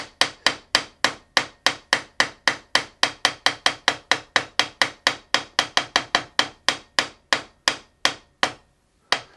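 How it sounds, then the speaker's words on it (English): Rapid, steady taps from a small polished metal hammer on a guitar headstock inlay, about thirty crisp, close strikes in quick rhythm, alone with no talking. "I have some specialized, very polished hammers."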